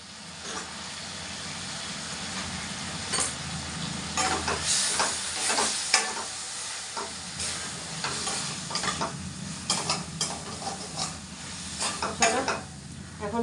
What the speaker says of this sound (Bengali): ভালো করে আলুর সঙ্গে মশলাটাকে কষিয়ে নিই